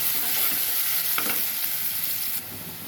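Chopped onions frying in a pan for keema curry, a steady close sizzle running nearly three seconds with a few stirring scrapes, dropping slightly near the end.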